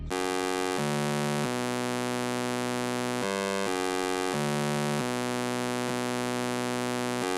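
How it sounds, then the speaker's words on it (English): A saw-wave synth bass line from the 3x Osc plugin in FL Studio plays a simple stepping pattern of sustained, buzzy notes with abrupt pitch changes, loud and continuous with no voices. "I started off with this saw wave bass line and 3x oscillator"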